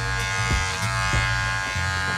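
A cordless Wahl Magic Clip hair clipper buzzes steadily with a strong humming drone and faint pulsing as it cuts hair, close and alone.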